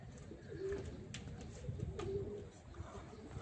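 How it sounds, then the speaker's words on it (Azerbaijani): A racing pigeon coos softly a couple of times against steady outdoor background noise at a loft during a pigeon race. "Quşun biri qayıtdı"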